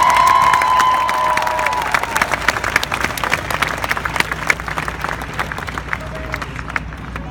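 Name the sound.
audience applause and cheering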